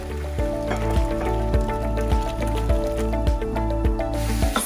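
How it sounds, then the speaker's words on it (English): Pasta cooking water being scooped into a mug, with a series of repeated wet scoops and splashes over a constant low hum in a kitchen. "I take a mug and I put it in and I keep a little bit of the cooking water"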